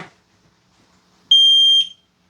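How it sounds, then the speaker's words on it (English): X-Sense smart Wi-Fi smoke detector sounding its alarm, a single loud piercing electronic beep held for about half a second in an otherwise quiet room, preceded by a brief faint voice. "Smoke alarm's going off."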